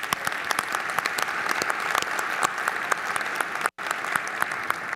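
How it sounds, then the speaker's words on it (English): Conference audience applauding during welcome remarks at the Sloan Sports Analytics Conference, a steady dense round of clapping with sharp individual claps, close and loud, breaking off briefly near the end before resuming. "if we can give a round of applause to these guys"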